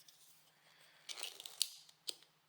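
A desoldering pump is pressed and cocked on an Acer Delta Electronics PC power supply bench, producing soft scraping and a few sharp plastic clicks close by and fairly quiet.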